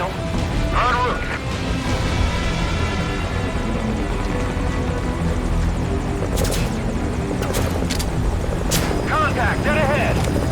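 A helicopter flies steadily under game gunfire and crashes in Metal Gear Solid V: Ground Zeroes, with its continuous loud rotor drone holding through the whole clip while voices and sharp impacts cut in over it.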